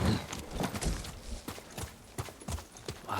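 Horse hooves clip-clop in a steady walking rhythm in the video game Ghost of Tsushima, close and distinct, with no voices.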